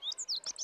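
A bunting gives a quick run of high, thin chirps, several short tweets in under a second, clear and close.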